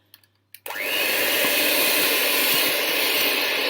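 An electric mixer beats cake batter for a raspberry and yoghurt cake. A few small knocks come first, then the motor kicks in with a loud, steady whirring drone that holds to the end.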